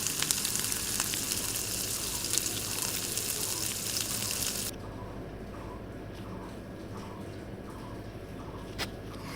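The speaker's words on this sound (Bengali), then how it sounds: "তেলটা গরম হলেই মাছগুলো ভেজে নেব" Pieces of katla fish fry in hot oil with a steady, dense sizzle that runs throughout, loud at first and then slightly softer and duller after a sudden change partway through, with occasional small pops.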